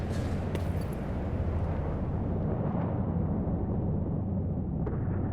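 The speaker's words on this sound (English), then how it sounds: "That's the strangest explosion I've seen in this mod." Explosion in the Stalker Narodnaya Solyanka mod, a deep, heavy rumbling blast that stays loud and dense throughout, its low roar rolling on for several seconds as the top end gradually fades.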